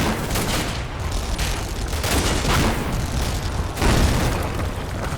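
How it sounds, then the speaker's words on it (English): Explosions and bursts of gunfire rumble through a Combat Mission Battle for Normandy wargame battle, heavy and loud, rolling one into another with a fresh booming blast near the end and no talking. "Explosion back here somehow takes out the MG gunner"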